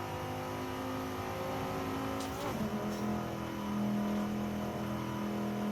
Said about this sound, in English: Car just bogged. You can hear it. Doesn't help that we're going uphill.